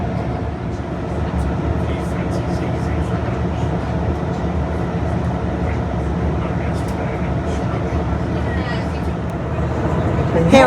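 A train pulls away from Maiden Newton station on the Heart of Wessex line in Dorset, heading toward Weymouth, giving a steady low rumble of engine and wheels with rising loudness toward the end.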